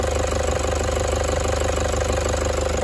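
A Toyota 1KD-FTV D4D diesel engine with a Euro 3 setup and replaced injectors idles nearby, its steady loud drone carrying a fine repetitive knocking throughout.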